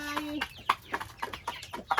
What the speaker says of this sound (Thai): แล้วก็มีไก่ใหญ่สี่ตัว